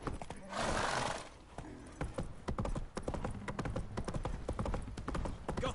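Horse hooves gallop in Witcher 3: Wild Hunt with a quick, steady clip-clop rhythm, close and fairly clear, and a whinny or rushing burst near the start.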